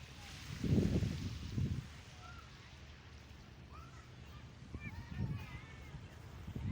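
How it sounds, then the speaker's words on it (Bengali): Geese honk on a riverbank, a few short calls rising above steady outdoor background noise, with low voice-like bursts and rustling near the start and again toward the end. "এ দেখেন অনেকগুলো রাজহাঁস"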